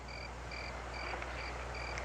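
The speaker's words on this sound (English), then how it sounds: "big frog who croak" A frog croaking in a faint outdoor night scene, giving short, regular, evenly spaced calls about twice a second over a steady low hum of background noise.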